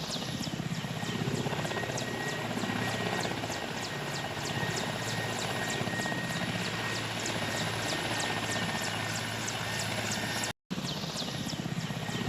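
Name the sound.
medevac helicopter flying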